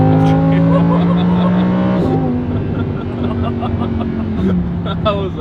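A supercar engine revs hard under half throttle after a downshift to third, a loud, steady, droning roar with pitch shifts around two and four and a half seconds, heard up close from inside the cabin.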